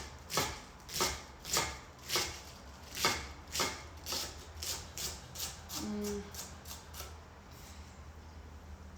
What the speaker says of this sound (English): now I'm gonna come across and shred it, chiffonade it, nice thin slice